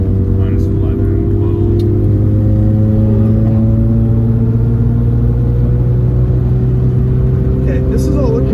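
Freshly rebuilt rotary engine in a Mazda RX-7 FD during road tuning, a loud steady in-cabin drone with sustained engine tones holding at high RPM, with someone talking over it.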